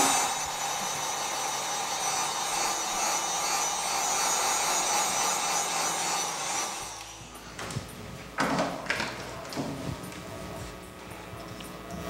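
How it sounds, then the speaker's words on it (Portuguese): Hair dryer or heat blower drying a handmade remote-control holder craft piece, a steady loud whooshing hum for about seven seconds that then cuts off, followed by a few knocks and handling sounds. "Agora, nós vamos secar no secador ou no soprador, rapidinho."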